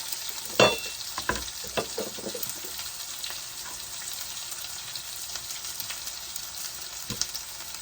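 Curry leaves and onions fry in a pan, a soft continuous sizzle broken by a sharp spatula clank and scattered scraping stirs, moderately close and with no talking.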